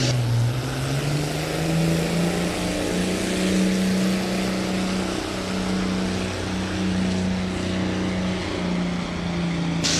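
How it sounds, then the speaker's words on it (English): A modified John Deere 6030 tractor competes at a tractor pull in Ashland. Its engine holds a loud, continuous roar with a deep steady drone for ten seconds and no talk over it. "Wow, there's a juiced up tractor"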